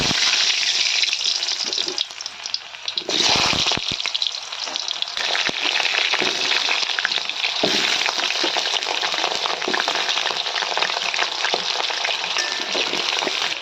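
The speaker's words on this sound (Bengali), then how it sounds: "দেখো তেল গরম হয়ে গেছে, আমি এবার আলুটাকে ভেজে নিচ্ছি" Potatoes frying in hot oil in a wok, a loud, dense and continuous crackling sizzle that stays close and steady throughout, with a brief dip partway through and no voices.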